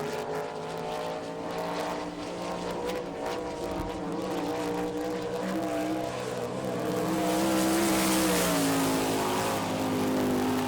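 A sprint race car on a qualifying lap at the dirt oval in Rossburg, Ohio, engine roaring steadily with pitch rising and falling through the turns, then swelling louder as it nears.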